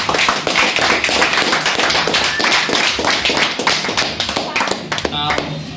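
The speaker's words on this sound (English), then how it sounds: "Let's give him a round of applause." A crowd applauding, dense rapid clapping that holds steady for several seconds before thinning out near the end.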